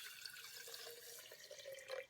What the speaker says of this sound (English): what you're gonna do is you're going to add water.